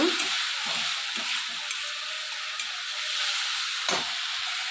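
Chilli powder and water stirred together in a hot pan while making a prawn and cauliflower curry, a constant sizzling hiss with several soft scraping stir strokes and a brief sharper scrape near the end.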